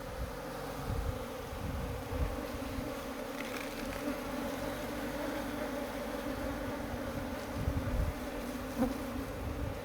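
Honeybees caught in Venur are released from the hand into a wooden hive box, giving a steady, close, continuous droning buzz of many insects throughout, with no talking.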